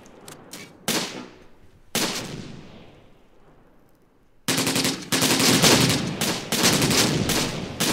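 Machine gun fire in the World War II strategy game Close Combat: Gateway to Caen, with short loud bursts and a sharp blast trailing off early, then sustained rapid automatic fire rattling on, no speech.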